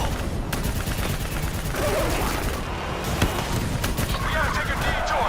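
A sustained fusillade rattles on without pause while soldiers fire at a VTOL in Call of Duty Black Ops 3, the shots dense and loud beneath a steady wash of battle noise, with voices faintly mixed in.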